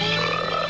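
A frog croaks in a dense, continuous buzzing chorus, loud and near, filling the whole moment with rough rhythmic throat pulses and no voices over it.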